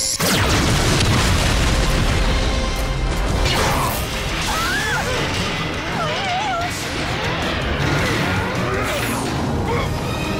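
A cartoon bomb detonates in a loud, dense crash and boom that rumbles on with scattered debris and chaotic effects throughout, with brief strained voices mixed into the din.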